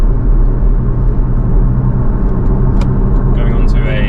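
A Porsche Cayman S in sport mode gives a deep, steady engine rumble and road drone heard from inside the cabin, loud and continuous, with a voice talking over it.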